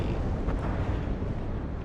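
SU-22 jets attacking with multiple cannons and rockets in the WARNO strategy game, heard as a dense, rumbling roar of blasts and explosions that stays loud and continuous for a couple of seconds, with no talking.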